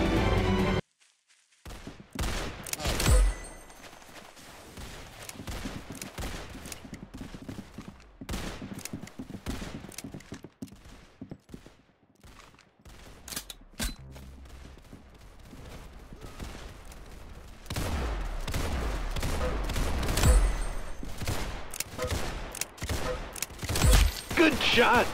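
Rapid bursts of gunfire from the online shooter game Roblox Arsenal, loud and close, with clustered volleys and brief pauses across the whole stretch, mixed with other game effects.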